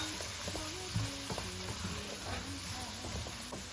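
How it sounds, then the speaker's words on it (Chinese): Diced egg, green beans, carrot and green pepper are stir-fried in a wok with a faint, steady sizzle, while a voice talks over it throughout. "把我们炒好的鸡蛋豆角丁给它放进来，然后给它翻炒均匀。"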